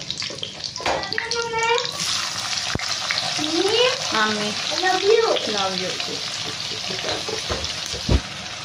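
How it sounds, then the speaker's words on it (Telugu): Curry leaves and onions hit hot oil in a pan for an egg and drumstick curry, giving a loud, close, continuous sizzle with stirring clatter. A faint voice briefly rises over the frying. "కరివేపాకు వేస్తాము. అలాగే ఆనియన్స్ కూడా వేసుకుందాం."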